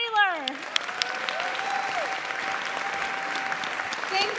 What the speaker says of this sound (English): I'm getting used to all this applause